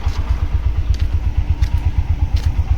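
Single-cylinder truck engine hauling a heavy load up the Gudalur to Wayanad hill road, a steady rapid low thumping beat that stays loud and even throughout, with faint clatter above it.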